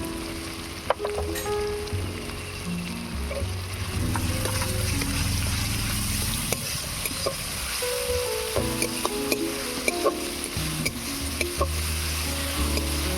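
Chopped onion and garlic paste fry with dried red chilli and nigella seeds in a pan, a steady loud sizzle throughout with occasional stirring clinks and scrapes of a spatula.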